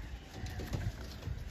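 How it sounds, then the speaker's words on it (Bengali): Pigeons kept for sale cooing softly at close range, a few low throaty coos rising over quiet background noise with no talking. "তো দুটোই পায়রা আপনাদের ছেড়ে দেখানো হলো"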